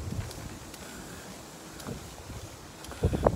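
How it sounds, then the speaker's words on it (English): Wind blows outdoors in Japan, a low, gusty rumble buffeting the microphone, mostly steady and moderate with a few sharper thumps near the end. "Now it's just windy."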